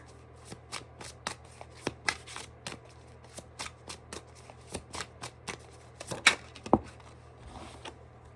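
A tarot deck is shuffled and cards are drawn, giving a quick run of crisp slaps and riffles in an uneven rhythm, close and fairly quiet, with a couple of louder snaps near the end.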